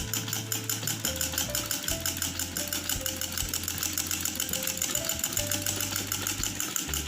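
A sewing machine with a thread fault runs steadily with a rhythmic mechanical whirr and light rattle, close and alone, no speech.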